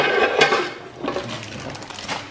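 Duck stew with salt and palm sugar being stirred in a pot, with repeated scraping and clinking of a utensil against the metal, fairly close and steady, no voices.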